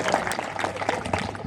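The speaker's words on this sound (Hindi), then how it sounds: "ताली आप बजा सकते हैं।" Applause from an audience at a Hindi poetry recital (kavi sammelan), a short burst of scattered clapping at moderate distance.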